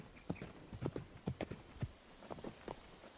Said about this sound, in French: quand ton cheval il part au galop pendant que tu es en train de le monter